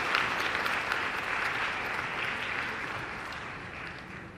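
An audience at a Madhya Pradesh government event for girls claps steadily in welcome. The applause is dense and sustained, near and fairly loud, and eases slightly toward the end with no talk over it.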